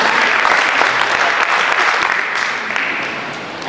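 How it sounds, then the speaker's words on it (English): An audience at a startup pitch day in Sri Lanka breaks into a round of applause, dense steady clapping that fills the whole stretch and tapers slightly toward the end, with no talk over it. "Give a round of applause."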